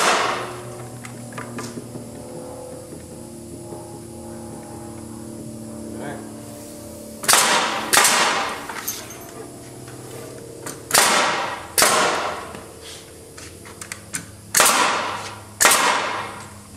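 Pneumatic nail gun firing into the timber framing of a storage building, sounding as sharp loud bangs, about five shots spaced a few seconds apart, over a steady low hum, with speech nearby.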